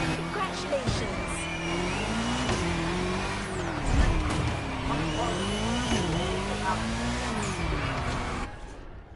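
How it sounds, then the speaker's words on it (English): Retro supercar in The Crew Motorfest, cruising at Waikiki Beach, holds a continuous engine drone with rising and falling revs and gear shifts, and a faint tire squeal, while voices talk over it. "Now you've got the perfect retro supercar for a cruise down Waikiki Beach."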